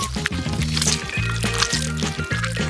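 Cake batter mixed with Oreo crumbs being whisked in a bowl, giving rhythmic wet sloshing and slapping strokes that repeat steadily. Close and fairly loud, with no talk over it.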